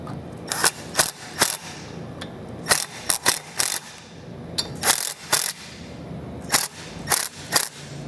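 A hand ratchet tightens screws on a vehicle base plate bracket, giving quick clustered clicking strokes in short bursts with small gaps, close and fairly crisp, without speech.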